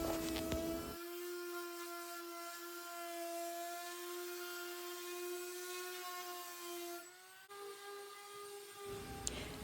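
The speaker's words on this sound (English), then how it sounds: "Now I'm using a 180 grit and I'm going to scuff sand the rest of the vanity anywhere I'm going to be painting" Wood veneer vanity being scuff sanded with 180 grit sandpaper, a steady whining power-sander tone running close and loud through most of the clip, briefly dipping near the end, with no talk.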